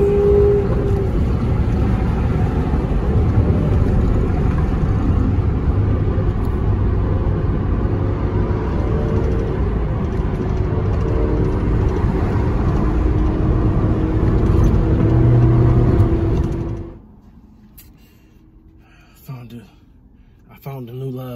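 Sports car accelerating hard on a highway, a loud roaring engine with a rising rumble sustained for about seventeen seconds and then cutting away, leaving quiet road noise.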